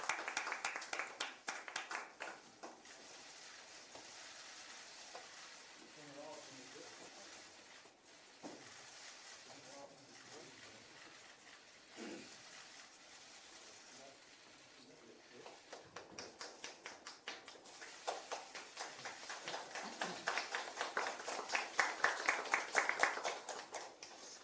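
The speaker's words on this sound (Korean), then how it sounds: "큰 박수 부탁드립니다" At a party talent-recruitment ceremony, an audience claps in faint, uneven bursts, quieter in the middle and swelling into rhythmic, stronger clapping near the end, with low murmuring voices underneath.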